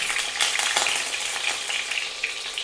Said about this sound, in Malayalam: ഇതിവിടെ ചൂടായി വരുമ്പോൾ നമ്മൾക്ക് മുറിച്ച് മാറ്റി വെച്ച വെളുത്തുള്ളി ഇട്ട് കൊടുക്കാം